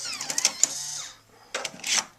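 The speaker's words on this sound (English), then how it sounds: "eject floppy disk. Now it is safe to turn off your Mac." A Macintosh Plus ejecting a floppy disk at shutdown gives a burst of quick mechanical clicks and whirring clatter, a brief pause, then a second short mechanical rattle, close and fairly quiet.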